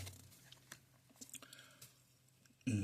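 Someone chewing a stick of 34-year-old gum from a 1991 Topps baseball card pack, with faint close mouth clicks and soft crunches, followed by a louder rustle at the very end.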